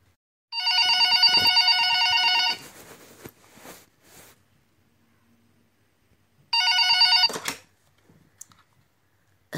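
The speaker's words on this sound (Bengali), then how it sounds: "হঠাৎ সতীশের ফোন" A telephone rings in two loud electronic bursts, the first about two seconds long and the second shorter, separated by quiet room sounds and faint rustling, in a Bengali audio drama scene.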